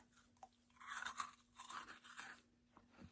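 Crisp, airy crunching as freeze-dried salt water taffy is bitten and chewed up close, a few loud crunches in bursts with brief pauses, and no talking.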